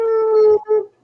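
A person imitates a dog-like howl: one sustained, steady vocal tone that breaks off, then a shorter second rise that fades away, loud and close.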